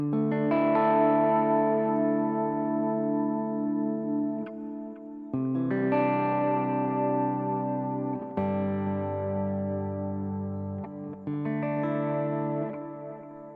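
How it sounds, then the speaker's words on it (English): An electric guitar run through a Quad Cortex patch with stereo tape delay rings out in sustained chords, each strum trailed by repeating echoes that decay slowly between new chords. "So all this is activating is a tape delay in stereo."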